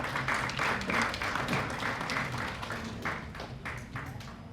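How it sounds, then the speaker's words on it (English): Summit audience applauding in a large hall, a dense sustained clapping that fills the whole stretch, loud at first and easing slightly toward the end, with no one speaking over it. "Shall we give him a round of applause?"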